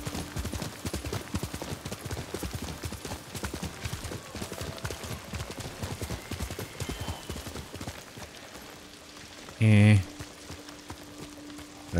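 Horse hooves clip-clopping at a steady riding pace in the video game Ghost of Tsushima, a continuous patter of fairly close hoofbeats over a low game ambience, with a brief louder burst near the end.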